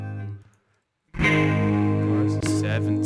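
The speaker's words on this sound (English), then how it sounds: "Jet flanger." A Line 6 Helix Native jet flanger colors a distorted electric guitar, which enters after a moment of near silence with a sustained, swirling chord that sweeps and rings on, loud and close.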